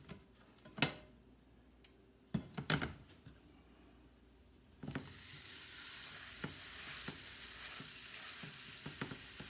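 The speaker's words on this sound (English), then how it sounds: "Just gonna get a nice sear on it." Pork drops into hot canola oil and bursts into a broad, even sizzle that holds steady for several seconds after a few knocks and clicks of handling, quiet and alone.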